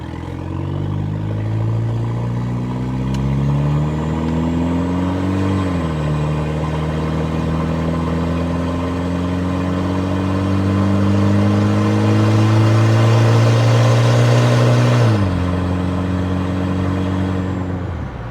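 A custom Toyota street truck drives on a test run, its engine note climbing steadily through the gears with clear shifts, loud and close against a constant road whir, with no talk.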